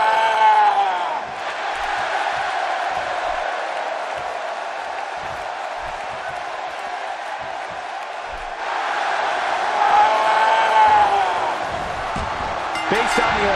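A roaring arena crowd in the wrestling game WWE 2K17 cheers loudly and continuously, with a sustained swell of noise that surges again near the end, and a commentator's voice runs over it.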